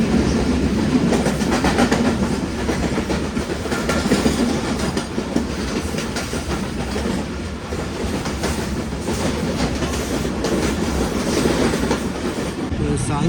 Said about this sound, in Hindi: गुजर रही है ट्रेन इस वक्त हमारी